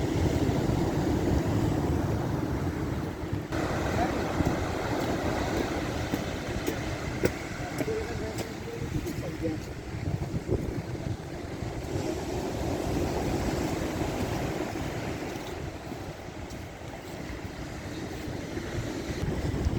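Cold wind gusting across Cleopatra beach during a walk, a continuous rumbling roar buffeting the microphone with the wash of surf blended underneath for the full twenty seconds.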